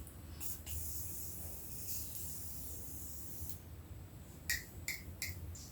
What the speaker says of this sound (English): For my setting spray, I'm going in with the Morphe Continuous Setting Mist.